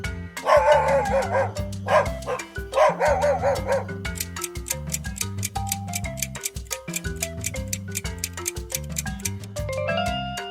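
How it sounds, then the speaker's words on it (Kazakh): A dog barks in quick repeated bursts, some sharp and close and others run together in short volleys, set over steady backing music. "Ит."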